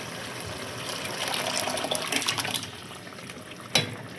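Water is poured into a pot of boiled, thickened lentils to thin them for dhalcha, a continuous close splashing gush that swells midway and ends with a small clink.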